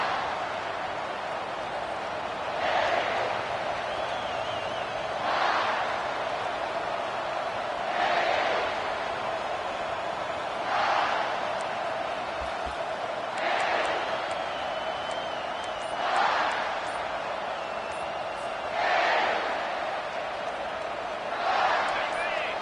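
Stadium crowd noise from the Madden football video game, a steady roar with swells of cheering recurring every few seconds, sitting under continuous play-by-play commentary.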